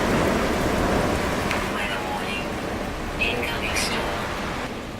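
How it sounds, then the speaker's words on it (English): Steady wash of heavy rain and wind from a freezing, endless storm on a hostile planet in No Man's Sky, loud and constant throughout, with faint higher whistling gusts, but no distinct thunderclap standing out. "The temperatures are extremely cold during the storms, and the storms never stop"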